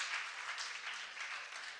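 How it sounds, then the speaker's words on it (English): Applause from the audience at a mayoral forum, a steady wash of clapping hands that fills the whole moment at moderate loudness, with no voices over it. "Please, I really do ask that you don't applaud."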